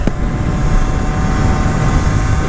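A modified 50cc scooter with an aftermarket exhaust pipe and airbox runs at speed, a continuous engine drone buried in heavy wind rumble, with no break across the clip.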